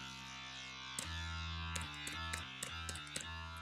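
A basic synth patch in Logic Pro, played dry with no sidechain compression, holds a steady sustained tone with a series of re-struck notes and chord changes over a few seconds, heard alone.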